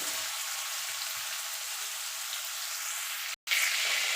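Prawns fry in hot oil for potol chingri. A steady, bright hiss of sizzling carries on close up, broken once by a sudden brief silence before it resumes.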